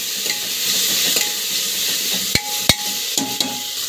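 Vegetables with tomato sautéing in a pan for a potato dish, a steady close sizzle with a few sharp spatula taps and scrapes near the end.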